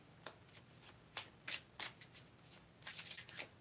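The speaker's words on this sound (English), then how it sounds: "I'm just shuffling the cards" Tarot cards are shuffled by hand close up in a quiet room, giving soft, irregular riffling bursts separated by short pauses.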